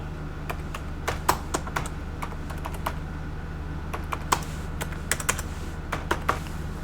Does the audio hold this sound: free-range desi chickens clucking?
no